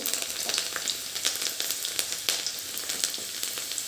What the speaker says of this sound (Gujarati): રાય આપણી તતડી ગઈ છે તો એની અંદર અડધી ટીસ્પૂન અજમો એડ કરીશું